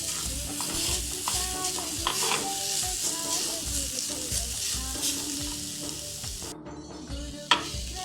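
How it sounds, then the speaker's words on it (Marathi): Freshly grated coconut frying in melted ghee for ukadiche modak filling, a continuous close sizzle broken by repeated scraping stir strokes and a clear clack of the spoon near the end. "तूप विरघळलेलं आहे यामध्ये मी ओलं खोबरं घालते किसून घेतलेलं आणि हे असं परतून घ्यायचं व्यवस्थित"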